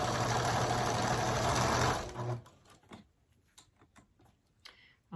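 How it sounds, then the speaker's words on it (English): A sewing machine stitching quilt block pieces together runs in a fast, steady whir for about two seconds, then stops, leaving scattered faint ticks and handling clicks. "I'm going to sew that together"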